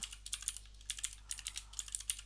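Someone typing a component name on a computer keyboard, a quick irregular run of close, crisp key clicks over a faint steady hum, with no voice.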